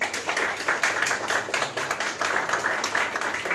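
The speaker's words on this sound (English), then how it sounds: "and a round of applause, please." Audience applause for a guest called to the front at an indoor gathering, a steady dense clatter of many hands clapping, sustained and fairly loud throughout with no one talking.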